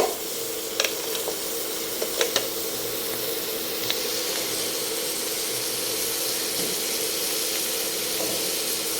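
Crabs and prawns cooking in butter with garlic sizzle steadily in a pan, a close, continuous frying hiss with a few sharp pops and crackles and no talking.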